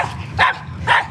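A dog barks at a passing cyclist on a country road, two sharp barks about half a second apart, fairly close and loud over faint background noise.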